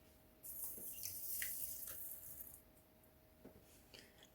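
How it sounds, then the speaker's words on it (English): Water poured onto chia seeds splashes and trickles in a short burst for about two seconds, then tapers into a few faint drips, quiet and close. "Add in some water."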